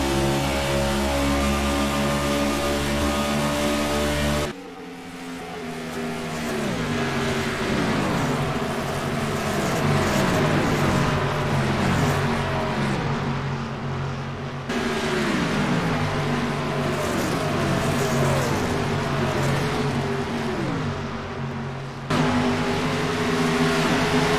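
NASCAR race cars at Indianapolis roar past in waves, engines droning and sweeping in pitch as each pack passes, with sharp cuts between passes and a steady loud engine bed throughout.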